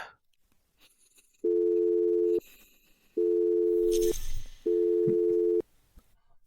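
A phone call goes unanswered, with three long, steady electronic ringback tones separated by pauses, clear and close, and a brief rustle between the second and third tones.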